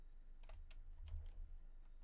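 Computer keyboard keys are pressed for Control Z and backspace, about five quiet, quick clicking taps close to the microphone over a low background hum.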